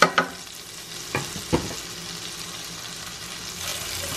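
Onions sautéing in a pan and being stirred, with a few brief scrapes over a quiet, steady sizzle.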